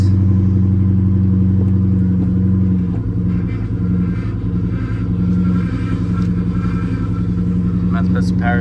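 A car engine idling steadily with a deep, even hum and low rumble, close and loud, dipping slightly midway before settling back, with a few faint clicks toward the end.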